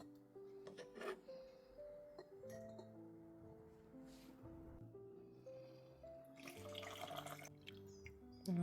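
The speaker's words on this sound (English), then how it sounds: "And then I'm just pouring my vinegar into the jar." Vinegar pours into a glass jar packed with sliced vegetables, giving soft trickling and splashing with faint clinks at close range, and a louder splash near the end.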